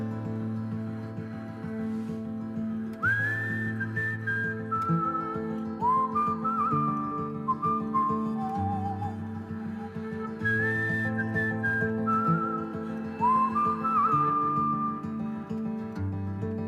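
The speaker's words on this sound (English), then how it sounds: "Whistling is becoming a dying art, and the postman used to whistle, and the butcher used to whistle, and nobody whistles anymore." A person whistles a folk tune, a clear melodic line over a sustained instrumental backing, with phrases rising and falling across several bars, close and moderately loud, with no talking.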